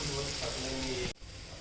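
Onion sizzles and fries in a hot pan for vegetable stir-fry, a dense crackling hiss that cuts off abruptly near the end, leaving faint background noise.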